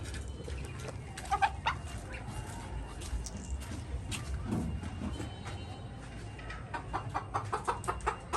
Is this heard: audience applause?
no